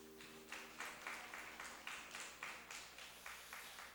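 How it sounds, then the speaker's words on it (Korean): A church congregation claps together in steady, rhythmic bursts about twice a second, faint and distant across the room. "서로 힘내서 박수 한번 드립시다"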